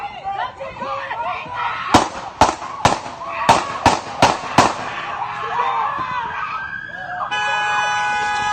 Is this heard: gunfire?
yes